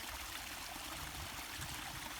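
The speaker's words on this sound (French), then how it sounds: "une cascade." A waterfall roars steadily and continuously, a dense broadband rush of falling water heard up close with no voices or other sounds.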